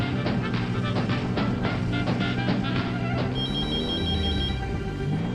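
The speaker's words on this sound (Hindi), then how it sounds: "मैं आर्यमन को कॉल करता हूँ।" Phone ringtone ringing during a call, a repeating electronic ring pattern in steady bursts, fairly clear, then a higher sustained tone toward the end, with no talking over it.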